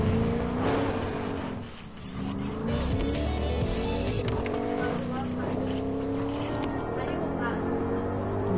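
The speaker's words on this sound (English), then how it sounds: "Look at that drift." A video game car drifting, its engine roaring with rising and falling revs and tires squealing through the slide, loud and continuous while a player talks over it.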